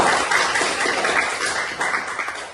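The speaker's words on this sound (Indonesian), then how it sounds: "Tepuk tangan buat Azam Said" Continuous applause from a classroom of students, a steady dense wash of clapping filling the whole stretch at close range.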